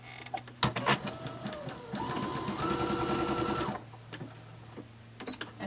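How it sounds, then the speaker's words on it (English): A home sewing machine stitches fabric at a narrow 1-width, 1-length setting in a steady whirring run of about two seconds, with softer handling clicks before and after. "And I just did a little bit of stitching"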